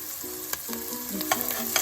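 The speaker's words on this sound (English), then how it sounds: "the onions are kind of bubbly in the butter" Chopped onion fries in butter in a pot, giving a soft, steady sizzle with faint bubbling and a few light stirring clicks, heard close and alone.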